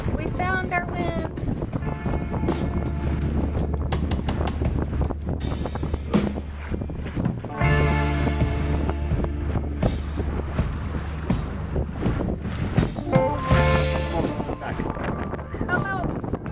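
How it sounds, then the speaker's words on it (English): Wind blows steadily across a Catalina 22 sailboat under sail, a continuous rushing buffet on the microphone, with voices heard faintly through it. "We found our wind."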